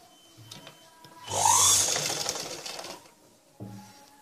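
A sewing machine stitching fabric for a blouse gives a quiet click, then a loud whirring run of about two seconds that slowly fades, followed by a short mechanical clunk, all close up with no one talking.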